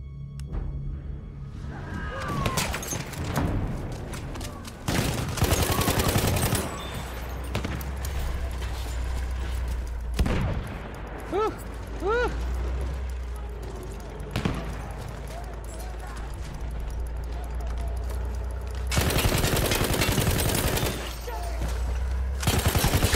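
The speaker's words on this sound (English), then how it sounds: "I need to use my AT guns against him" Anti-tank guns firing in a video game, loud blasts and bursts of gunfire spread across the scene, some rapid volleys, mixed with game noise and people talking over it.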